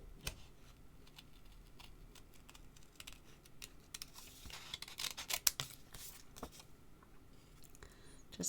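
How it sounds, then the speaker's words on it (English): Scissors snip repeatedly through paper cardstock in a quiet room, fussy-cutting a stamped design with a run of short, close, crisp cuts that grow denser midway. "Just do a section at a time if you're not comfortable about cutting the whole thing out in one piece."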